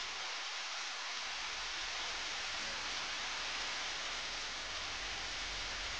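Heavy rain pours down in a steady, dense hiss that fills the scene at an even level from start to finish, in a 1997 TVB Cantonese fantasy drama, with no one talking.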